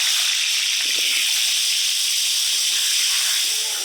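Potatoes rubbed with salt and turmeric fry in a little mustard oil in a wok, producing a loud, continuous hissing sizzle that holds steady throughout, close up and with no talking.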